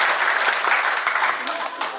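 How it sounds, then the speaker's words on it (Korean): Guests at a wedding reception applauding, a brisk burst of many hands clapping fairly close, with voices mixed in beneath the clapping. "다시 한번 뜨거운 박수 부탁드리겠습니다"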